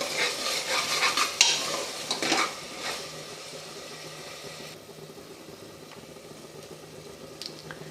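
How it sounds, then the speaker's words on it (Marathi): Masoor rice ingredients with salt are sautéed in a pan, with scraping spoon strokes and clinks over a low sizzle in the first few seconds, then a quieter faint hiss with an occasional tap. "सर्व परतून घेऊ"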